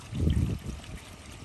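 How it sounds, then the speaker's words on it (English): Soft, steady trickle of water running through a drain, a low gurgling flow that fades slightly toward the end. "we have our rain gutter drain."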